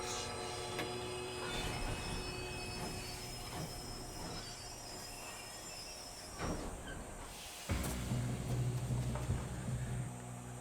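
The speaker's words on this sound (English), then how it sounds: "If we don't stop this train soon, the other boys will never catch." Train rolling on rails in Red Dead Redemption 2, with loud metallic wheel squeal and rumbling clatter, growing heavier toward the end, no talk.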